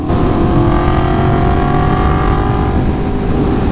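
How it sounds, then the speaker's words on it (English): A loud, steady engine drone with layered harmonics holds close and constant, like a 2017 Aprilia Tuono V4 1100 motorcycle under sustained throttle, with no voices. "just opening the throttle up a bit right there"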